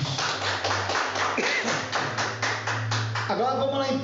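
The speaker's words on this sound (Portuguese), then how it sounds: "Palmas para Jesus" A church congregation claps for Jesus in a steady rhythmic run of hand claps, with a voice speaking over the applause.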